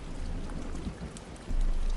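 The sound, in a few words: soothing rain sound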